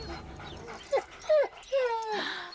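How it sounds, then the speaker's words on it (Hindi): Dogs set loose in a dramatic film scene, giving several short yelping barks and whines in separate bursts, fairly close, with panting and some background noise between them. "इसके पीछे कुत्ते छोड़ो।"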